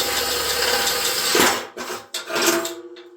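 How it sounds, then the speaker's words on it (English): A power drill whirs steadily through wood, then winds down and stops with a few short bursts as it bites, close and loud. "I'm going to get drilling and let's get rocking and rolling."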